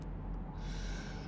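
A single bird call in the No Man's Sky video game, a brief hooting, owl-like cry heard once over a steady low ambient drone.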